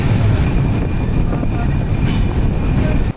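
The Padma Express rumbles through the night on its run out of Dhaka, a loud, steady low roar of wheels and carriage noise heard from aboard, cutting off abruptly at the end.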